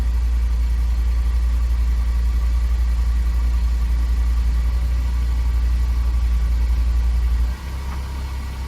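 A 2009-or-later Ford engine runs steadily at idle with its canister purge stuck fully open, a loud continuous low rumble that drops and roughens near the end as the engine falters.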